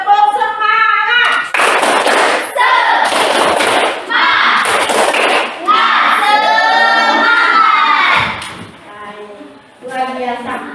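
A classroom of children performing a rhythmic spirit clap, several loud bursts of unison clapping and chanting in a steady pattern, ending in a brief pause and a final clap.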